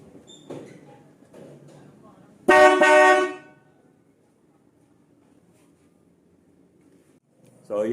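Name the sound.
four Mitsuba turbine horns on a Toyota Rush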